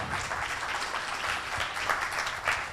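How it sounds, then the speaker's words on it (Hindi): An audience at a literature festival session in Ahmedabad claps steadily through a brief burst of applause, a moderate, even patter of many hands with no speech over it. "तालियां जोरदार"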